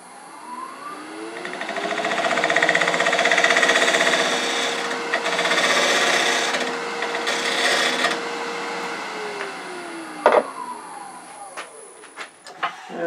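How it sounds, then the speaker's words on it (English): A detail gouge cuts into a spinning cherry burl on a wood lathe, giving a loud, continuous scraping hiss with a steady motor whine, ending with a few sharp knocks as the cut stops. "Let me get a detail gouge"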